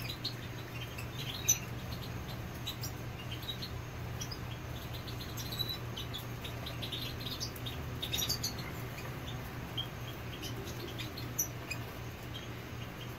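European goldfinches in a cage chirp in short, scattered high tweets over a steady low hum, faint and intermittent across the whole stretch with no talking.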